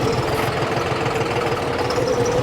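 A John Deere tractor engine runs steadily on a road, a loud, close, rough diesel chugging with continuous low knocking and no speech.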